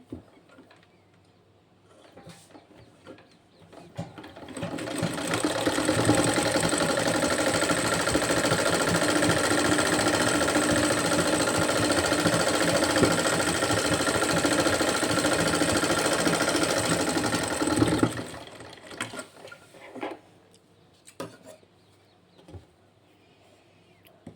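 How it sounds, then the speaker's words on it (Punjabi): An electric sewing machine stitches along a sleeve cuff in one continuous run of rapid, even mechanical rattling, starting and stopping cleanly, with quiet fabric handling before and after. "ਇਸ ਤਰ੍ਹਾਂ ਕਟਾਈ ਕਰਨ ਤੋਂ ਬਾਅਦ ਇਹ ਆਪਾਂ ਇਹਦੇ ਉੱਪਰ ਸਲਾਈ ਲਗਾਉਣੀ ਹੈ"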